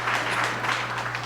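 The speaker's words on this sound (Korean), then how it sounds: "예, 우리 박수를 한번" A church congregation breaks into applause, a brief dense wash of clapping heard from within the hall under a steady low hum, with no one speaking.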